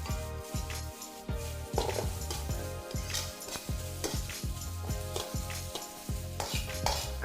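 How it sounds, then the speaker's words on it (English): Peppers and vegetables stir-fried in oil for a black bean beef hor fun, with steady sizzling under a rapid, rhythmic series of close spatula scrapes and clacks against the pan, no talking. "a little drizzle of oil and your peppers can go in. Just fold your veg through"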